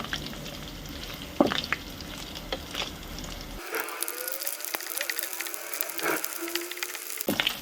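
Dried fish frying in a pan, a soft continuous sizzle with scraping and stirring clicks, the texture shifting halfway through as the spatula keeps moving.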